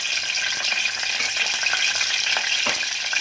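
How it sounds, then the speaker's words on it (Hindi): Curry leaves and chillies sizzle and crackle steadily in hot oil in a home kitchen pan, a dense, close hiss with occasional sharper pops and light stirring, no one talking. "ये तेल है, ये पहले करी पत्ता डाल रही हूँ।"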